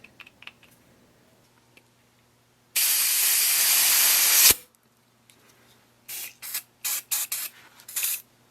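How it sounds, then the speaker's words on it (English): WD-40 sprays as honing oil onto an engine cylinder during a John Deere 1010 engine rebuild, one long, loud hiss of nearly two seconds that stops abruptly, followed later by several short, sharp bursts. "So I'm going to use WD-40 as honing oil"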